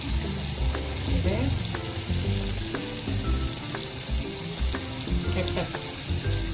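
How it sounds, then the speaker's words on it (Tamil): Capsicum sautéing in a pan for egg Manchurian, a loud continuous sizzle with repeated clinks and scrapes of a spoon stirring close by. "ஒரு குடமிளகா போட்டுக்கணும். அது நல்லா கொஞ்சம் வதங்கணும்."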